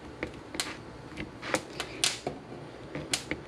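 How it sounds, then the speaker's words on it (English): Chile peppers charring over a high gas flame give off sharp, irregular pops and crackles, a dozen or so quick snaps spread unevenly across a low background hiss. "You could hear the chiles popping."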